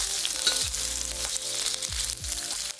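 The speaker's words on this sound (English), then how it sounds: "We'll stir fry the mushrooms for about 30 seconds." Shiitake mushrooms stir-fried in a hot wok over low heat, with a steady close sizzle and a few scraping strokes of a spatula against the metal, no talking.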